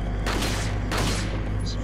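Gunfire from the video game Resident Evil 4: two loud bursts of shots with a booming tail, over a dense steady game soundscape.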